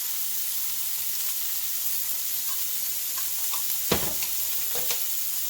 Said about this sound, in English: Adding some black bean sauce.